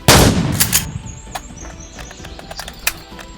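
A shotgun fired in the video game Ultra World, one loud, sharp blast at the start that rings out and decays, followed by softer scattered clicks and squeaky game effects.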